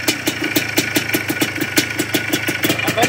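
An ATV engine runs close by with a steady mid-pitched chugging and regular rapid pulses, loud and continuous, with no talk over it.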